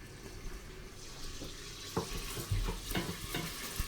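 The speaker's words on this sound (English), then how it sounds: "I am adding all of the beef fat that has rendered from the bones and the meat" Rendered beef fat from bones and meat being poured into a soup pot, a close sizzling, watery splash with a few scraping knocks and bursts of crackle, no speech.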